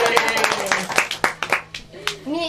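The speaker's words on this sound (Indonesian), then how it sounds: "Ini tim Hore juga tepuk tangan ya" A podcast team claps their hands in a few sharp, scattered bursts over about two seconds, close and fairly loud, with people talking over and between the claps.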